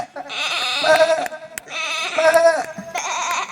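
Someone mimics a goat with his voice, producing three long, wavering bleats in succession, loud and close, each a quavering nasal cry separated by short pauses.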